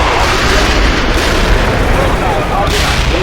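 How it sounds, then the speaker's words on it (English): Artillery explosions in the video game World in Conflict, a loud, dense, continuous roar of blasts and booms with rumbling low end, with voices faintly mixed into the din. "We need artillery immediately"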